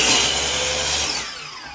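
A chop saw cutting through two wooden frame pieces clamped together, one loud continuous whining cut that winds down as the blade finishes, with no voices.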